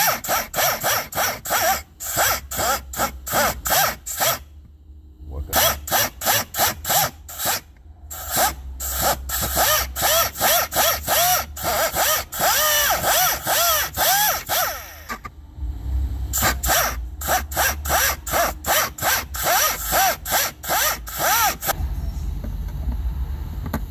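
Steady back-and-forth sawing or rasping through the plastic of a 2000 Nissan Pathfinder cabin filter housing, cutting open the filter slot, with short pauses between bursts of strokes and no speech.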